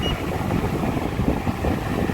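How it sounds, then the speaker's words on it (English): Car air conditioning running with the compressor engaged, a steady, loud broadband rush of blower and engine noise close to the microphone, no speech. "Now I'm going to turn on the AC now. So yeah, the compressor will need to kick in."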